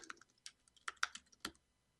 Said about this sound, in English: Sorry for the typing noise.